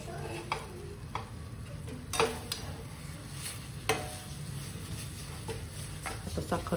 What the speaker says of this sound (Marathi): आणि ह्या आत्ताच मी याच्यासोबत भाजून घेणार आहे.